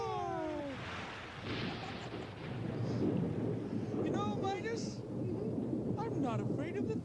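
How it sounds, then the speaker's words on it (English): Rumbling thunder rolls through a storm, loud and sustained, with rain-like noise underneath and a voice singing or speaking over it. "not afraid of the thunder"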